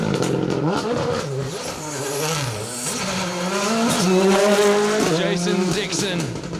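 A rally car powers through a tight hairpin on a Down Rally forest stage, its engine howling and revving hard with tyre scrabble as it slides through, close and loud throughout, with a commentator talking over it.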